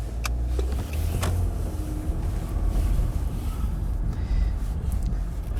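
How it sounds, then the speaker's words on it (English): A car passing by on a college campus road, heard as a steady broad rumble with wind noise on the microphone, recorded from inside a moving vehicle. "Let that car going by"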